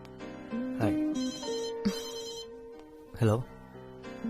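A telephone rings with steady electronic tones in the background while people talk over it at moderate volume.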